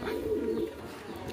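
Damascene pigeons coo in low, steady murmurs while pecking at eggshell, a continuous near throaty warble with no talk over it.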